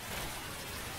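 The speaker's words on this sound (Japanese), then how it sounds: "ウェザーリポート、雨を頼む。" Rain conjured by the Weather Report stand in JoJo's All-Star Battle R pours down as a steady, dense, close hiss that fills the whole second without a break.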